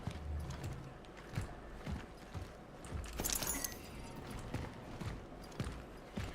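Two pet cats racing around an apartment, their paws thudding on the floor in quick, irregular clip-clop-like bursts, faint and somewhat distant.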